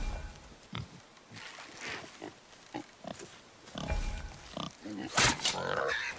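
Low grunting and snorting from a boar in the video game God of War, in short bursts with scuffling and rustling noises in between, fairly close and moderately loud.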